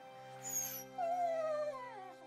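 A dog whimpers and then lets out a rising, wavering howl that slides downward and fades, close and fairly loud over a steady low hum, with no talk.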